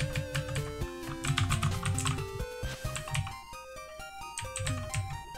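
Computer keyboard keys clicked in quick taps while playing a game, soft clatter under a bright, looping melodic game soundtrack.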